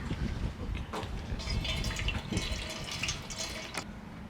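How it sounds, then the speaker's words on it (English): Fresh water runs from a tap and splashes steadily over a pearl being washed at a pearl farm, a continuous close trickle with small drips and splashes and no talking. "just wash it with the fresh water"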